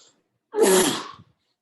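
A single sneeze in a classroom lecture setting: a short sharp inhale-free burst lasting about half a second, close and loud, then silence, with no talk.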